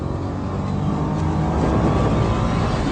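A Nissan Juke R engine pulls hard at the top of third gear on a race track, a loud, dense, continuous roar without any voice over it.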